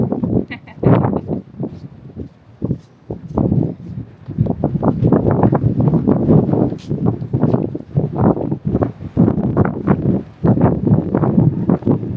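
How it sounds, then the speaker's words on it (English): Gusty wind buffeting a microphone on the front deck of the Sapphire Princess cruise ship at sea, in heavy low rumbling bursts, loud and close, with brief lulls between gusts. "Look how windy it is."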